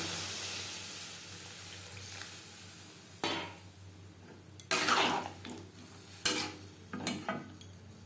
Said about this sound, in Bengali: আর একটু জল আমি অ্যাড করলাম